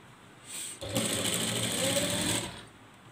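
A sewing machine stitches lace onto a frock, starting with a short whir that then settles into a sustained, fast, close mechanical hum lasting about two seconds before stopping.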